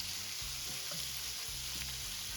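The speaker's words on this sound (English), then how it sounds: "Now I'm adding more sesame oil to my pan and I'm frying my chicken." Chicken pieces frying in sesame oil in a pan, a steady close hiss and crackle of sizzling with a couple of soft stirring knocks, no voices.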